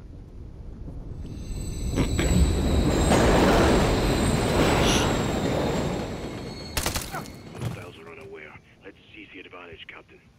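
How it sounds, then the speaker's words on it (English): A train rumbles past in the Modern Warfare III campaign, a loud broadband roar that swells over several seconds under game voices, with wheel squeal, then gunfire-like cracks and clatter as it fades. "Another train coming."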